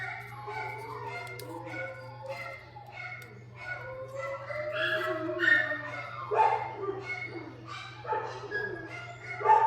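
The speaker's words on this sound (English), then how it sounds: "You can tell the dog's barking their heads off." A dog barks repeatedly in short bursts, fairly close, over a steady low electrical hum, with some voices mixed in.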